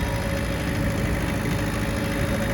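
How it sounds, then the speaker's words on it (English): A Mitsubishi D2650FD tractor's diesel engine idles close by, a steady, even low rumble with a faint whining tone and no talk. "And you can hear this engine runs great."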